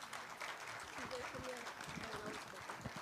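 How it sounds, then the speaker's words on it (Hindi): Applause from an audience in an indoor gathering, a soft, continuous patter of clapping heard fairly faintly beneath a voice that carries on speaking over it. "तालियां तो बनती है ना।"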